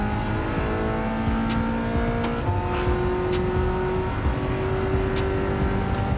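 BMW M3 GT3 race car driven in the Gran Turismo 7 racing game, its engine a loud, continuous high-revving drone with rising and falling pitch as it accelerates and shifts, heard alone without talk.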